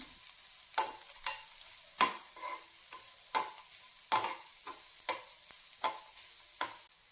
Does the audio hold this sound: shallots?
yes